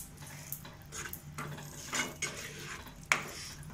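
A spoon stirs bhindi do pyaza, okra with onions and yogurt, in a cooking pan, soft repeated scraping and clinking strokes with a faint sizzle beneath, close and without talk.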